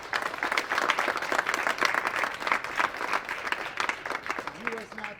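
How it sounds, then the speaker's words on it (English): An audience at a school winter sports awards applauds, steady dense clapping from a crowd for several seconds that tapers off near the end. "so I'd like to give him a round of applause."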